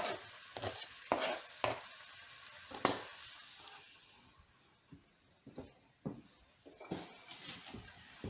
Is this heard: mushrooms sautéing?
yes